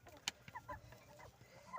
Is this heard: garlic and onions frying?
no